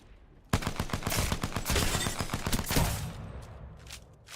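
Rapid automatic gunfire from an Apex Legends match, a loud dense burst of shots starting suddenly and running for about two and a half seconds before trailing off into quieter game sounds.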